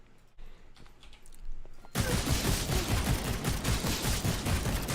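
Heavy, dense bullet fire in the shooter game Suit for Hire bursts in after a quiet start and rattles on loudly and continuously to the end.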